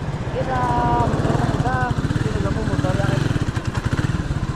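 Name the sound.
Yamaha Mio motorcycle engine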